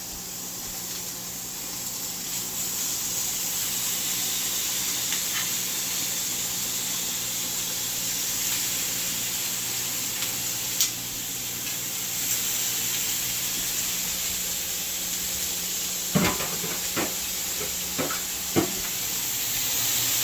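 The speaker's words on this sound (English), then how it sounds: "Now it's getting sizzly." Shrimp sizzling in a hot, smoky cast iron grill pan, a steady close hiss and crackle throughout with a few sharp pops and scrapes near the end.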